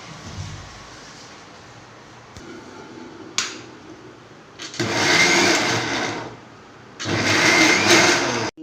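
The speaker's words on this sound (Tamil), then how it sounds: "மிக்சியில் போட்டு பல்ஸ் மூணில் போட்டு லேசாக சுத்தணும்" Kitchen mixer grinder (mixie) run in short pulses on speed setting three, two separate loud whirring bursts of about a second and a half each, with a quieter clack and shuffle before them.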